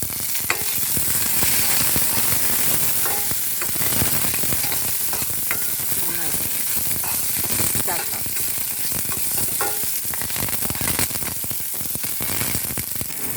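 Chilli flakes, shallots, garlic and curry leaves frying in hot oil, a steady close crackling sizzle with stirring scrapes throughout, no talk.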